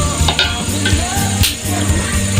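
Tomatoes hiss and sizzle in a hot frying pan, a loud steady frying crackle heard up close, with soft stirring and occasional clinks from the pan.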